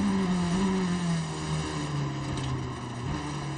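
Onboard a Proton Porsche race car in an FIA WEC race at Imola, the struggling engine drones and wavers in pitch as gears change down, a continuous strained tone under rushing noise.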